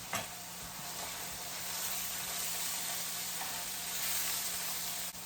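Ground beef frying in its own rendered fat for taco-stuffed potatoes gives a steady, dense sizzle with fine crackling pops, close and continuous with no talking.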